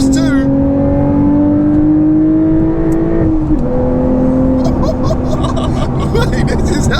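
A modified Porsche 911 992.2 revving loud and close, its engine note climbing steadily and then dropping sharply on a downshift before climbing again, with crackles near the end. Interior road and wind noise sits beneath it.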